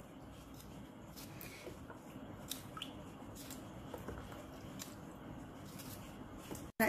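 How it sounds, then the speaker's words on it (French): Okra has its tops and tails trimmed off one by one, giving soft, close clicks and wet squishes at an irregular pace over a low, steady background hum, with no talking. "On coupe que les têtes et les queues de notre gombo."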